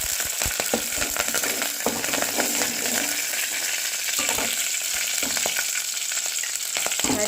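Curry leaves frying in hot oil for a drumstick curry, a loud dense crackling sizzle with constant stirring scrapes and knocks, close up and without talk.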